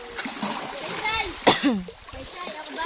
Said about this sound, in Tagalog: Naliligo sa dagat.